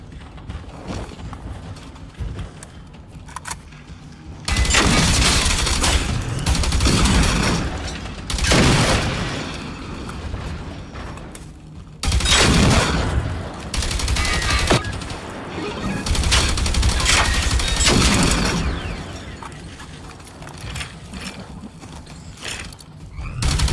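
Bursts of loud gunfire in Generation Zero come in long sustained volleys broken by quieter gaps, harsh and close, with no voices over them.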